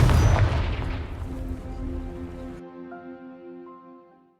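Confringo fire spell exploding in Hogwarts Legacy, a loud booming blast with a long rumbling decay that fades into quiet ringing tones.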